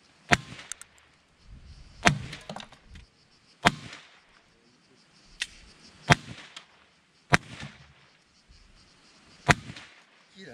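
Several sharp, loud 9mm pistol shots fired at rotary tattoo machines ring out one at a time at irregular intervals of one to two seconds, with quieter rustling and handling noise between them.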